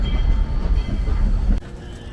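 A train on the Georgetown Loop rumbles steadily along the rails with low, heavy noise that drops slightly in level near the end.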